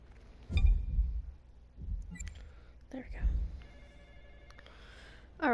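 Several brief electronic phone tones and chimes ring out between low thumps and murmurs, ending with a louder rising tone.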